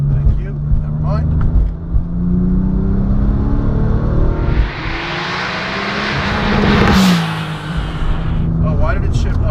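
Porsche 997 Turbo Tiptronic tuned to 760 wheel horsepower, engine rising loudly with a roaring surge and audible gear shifts, with people talking inside the car throughout.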